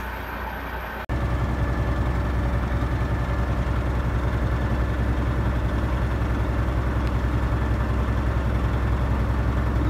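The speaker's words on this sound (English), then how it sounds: "start up the motor" A big truck's engine idles steadily and loud after a brief break at the start, a continuous low rumble while it builds air pressure for a frozen air brake system.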